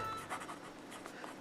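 A fountain pen with Ferris Wheel Press Bluegrass Velvet ink writes on cheap paper, making soft, close scratchy strokes in a quiet series of short movements.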